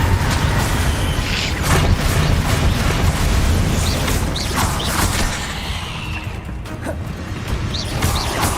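Bombarda and Confringo spell blasts in Hogwarts Legacy rumble loudly as continuous booms and crashes under a sustained roar, with a few brief bright chimes on top.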